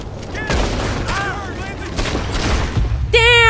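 Gunfire crackles through a robbery of a banking coach in Red Dead Redemption 2, with repeated sharp shots over a busy battle din and an ending tone.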